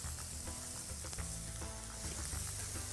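Paprika frying with sweated onions in a pan for patatas bravas, a steady loud sizzle filling the whole stretch with faint scraping stirs underneath and no voices.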